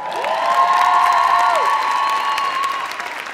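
Audience applause at the Copenhagen Pole Competition 2014 opening show, a steady wash of clapping and some cheering filling the hall for about three seconds, with a sustained tonal sound running over it.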